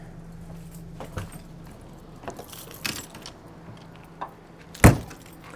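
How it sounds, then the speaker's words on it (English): A bunch of keys is picked up and jingles in a few short, scattered clinks over quiet background, with one sharper, louder jangle near the end. "let me grab my keys"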